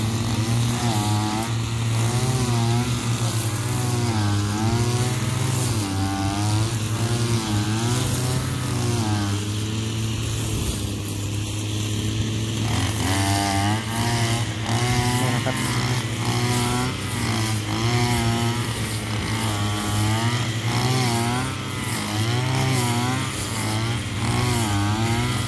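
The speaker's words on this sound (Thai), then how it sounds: "คือหญ้าหนานี่ก็ต้องเร่งเครื่องใส่นะครับ" A brush cutter engine runs loud and close, revving up and down repeatedly as it chews through thick grass among rice plants, with someone talking over it.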